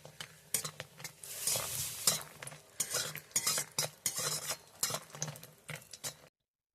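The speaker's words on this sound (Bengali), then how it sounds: "আগে বড়িটাকে ভেজে নেব।" Lentil dumplings (bori) frying in mustard oil make a close sizzle, broken by repeated sharp stirring scrapes and utensil clicks against the pan.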